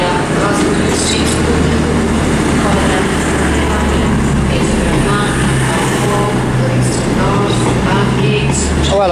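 A ScotRail train at Edinburgh Waverley station produces a loud, continuous rumble and roar that fills the station, with a public announcement voice faintly under the noise.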